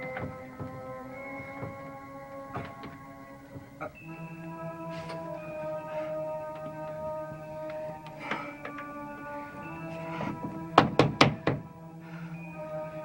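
A locked door is tried and rattled, giving dull thunks and knocks spread over several seconds beneath a steady hum, ending in a quick cluster of louder bangs.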